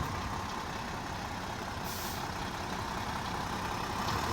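A Nissan UD FE ten-wheel truck drives with a steady, loud, broadband engine and road roar, and a brief hiss of air brakes partway through.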